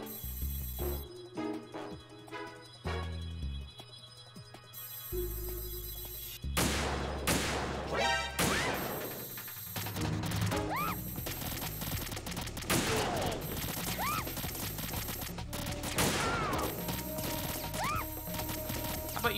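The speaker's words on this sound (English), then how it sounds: "How about you stop shooting at Emma?" Gunfire in Metal Gear Solid 2: rapid bursts of shots over game music and effects, loud and dense through the later part after a quieter musical opening.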